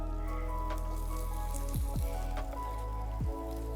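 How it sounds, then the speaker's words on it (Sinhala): Chopped vegetables tipped into a hot pan of sesame seeds over low heat for a vegetarian dish, giving a steady close crackling sizzle with a few sharper pops and splashes, no talking. "ඔයාගේ කපාගත්ත එළවලු ටික ඉක්මනට එකතු කරගන්න"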